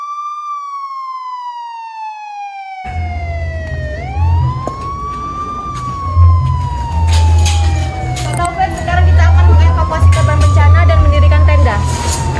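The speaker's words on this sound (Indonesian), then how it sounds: "di lokasi pun terdengar suara sirine dari mobil tim PMI" A PMI emergency vehicle siren wails in rising and falling sweeps, loud and close, during an earthquake disaster drill, with engine rumble and voices joining partway through.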